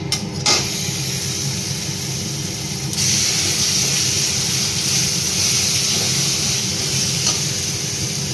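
Tomato paste sizzling in a frying pan with mustard-based fish curry cooking, a loud continuous hiss and crackle, close up, with a sharp clink at the start and the sizzle intensifying partway through.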